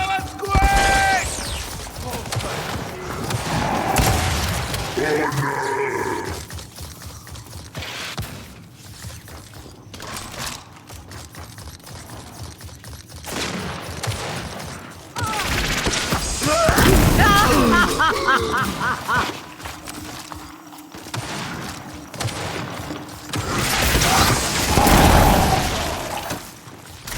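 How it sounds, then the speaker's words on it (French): Video game combat with grenade explosions and gunfire: heavy booms and crashing bursts mixed with clattering shots over about half a minute, while voices shout and talk throughout. "Friendly fire! Ah! Attention, grenade!"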